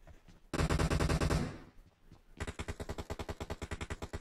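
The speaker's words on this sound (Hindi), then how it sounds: "ये कौन ऐसे कंटिन्यू गोलियां चला रहे वॉरियर" Bursts of rapid gunfire in PUBG Mobile: a loud sustained volley, a brief lull, then a steady stream of evenly spaced shots, with no talking.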